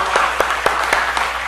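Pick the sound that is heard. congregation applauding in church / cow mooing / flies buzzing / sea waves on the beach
congregation applauding in church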